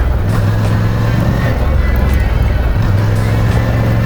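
A car's engine runs steadily up close as the vehicle drives off, giving a constant low rumble with road and wind noise throughout.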